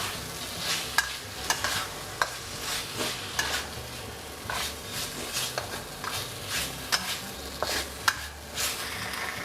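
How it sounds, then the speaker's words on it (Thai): Pieces of grilled stingray meat stir-fried in a pan with curry paste, a constant sizzle under rhythmic spatula scrapes and knocks repeating every second or so, close up with no talking. "จากนั้นนะครับผมจะใส่เนื้อปลากระเบนนะครับ ลงไปเลย อันนี้เราไม่ต้องผัดนานนะครับ"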